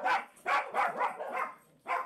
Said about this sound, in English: The dogs downstairs are going...